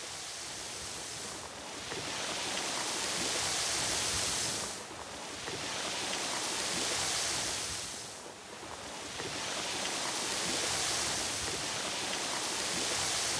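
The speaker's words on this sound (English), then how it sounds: "You can smell the water. You can hear the water." Water rushes in a continuous broad hiss that swells and eases in slow, surf-like surges, loud and steady with no voices.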